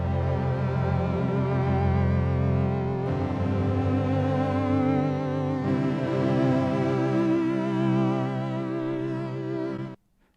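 Sonicware Texture Lab granular effect applies pitch modulation to a sustained tone, giving a continuous wavering, warbling texture that holds steadily and then stops abruptly near the end.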